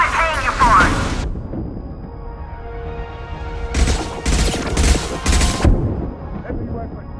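Mass Effect 2 combat with heavy weapon fire: a loud burst of gunfire at the start, a sustained rumbling blast, then a rapid series of powerful booming shots, with game voices shouting over the action.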